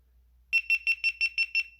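A motorcycle helmet camera powering off emits a rapid series of seven evenly spaced, bright electronic beeps, close and clear with nothing else around them.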